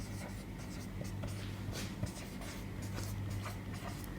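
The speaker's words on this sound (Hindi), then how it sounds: "एक एग्जाम्पल और लिखता हूँ" A teacher writes an example sentence on a board during an English syntax lesson, the steady scratching and tapping strokes continuing for several seconds, close and fairly quiet, with no voices.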